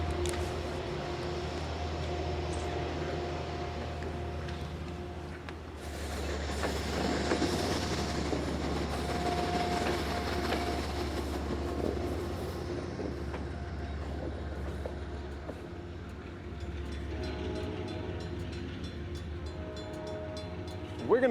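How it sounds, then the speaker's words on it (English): Amtrak train rolls into Rutland's station with a low steady rumble and clickety-clack of wheels, a horn tone sounding midway, heard from nearby on the platform. "I was gonna go and catch the train arriving in a few minutes."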